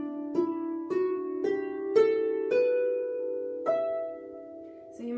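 Harp playing a slow phrase of the tune Bonny at Morn, a series of clear plucked notes with ringing overtones, each note struck distinctly and left to sustain, close and moderately loud with no talking.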